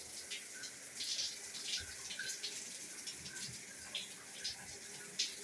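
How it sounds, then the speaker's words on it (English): A shower head runs in a house bathroom, giving a faint, steady hiss of spraying water with slight splashing fluctuations. "Shower head works pretty good."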